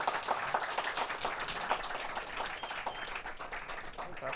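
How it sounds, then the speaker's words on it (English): An audience at a book event at Berklee gives a round of applause for the interviewers, a dense, even wash of clapping heard alone at moderate distance for several seconds. "Can we get another round of applause for our interviewers?"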